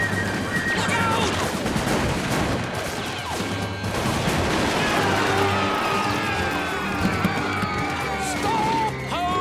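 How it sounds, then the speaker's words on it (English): Musket gunfire crackles in an animated episode about colonial settlers, rapid loud volleys and scattered shots over shouting voices and crowd commotion throughout. "Tom, we're being shot at!"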